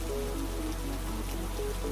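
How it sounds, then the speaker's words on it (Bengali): Steady, continuous rain patters down in a cartoon, a dense even hiss of drops with a soft tonal background throughout. "এরপর একটানা বৃষ্টি হতে লাগলো।"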